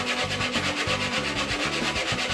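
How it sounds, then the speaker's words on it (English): A wooden katana sheath being sanded by hand, a close, loud rhythmic rasping of quick back-and-forth strokes with no pauses. "sand the sheath."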